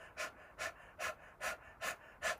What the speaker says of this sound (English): switch to a pant.